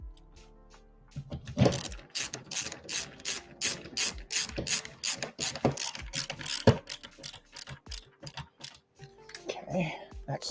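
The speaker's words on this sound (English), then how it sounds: "You're bolting it to the base." Rapid ratchet clicking while bolting an arcade cabinet for Big Buck Hunter Pro Deluxe to its base, several quick bursts of ratcheting close up with brief pauses and a voice near the end.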